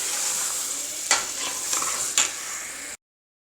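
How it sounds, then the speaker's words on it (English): Tomato stew fries in a pot under a bright, constant hiss of sizzling, with a few spoon strokes scraping through it, close up, before cutting to silence. "I stir fry the tomato for 25 minutes"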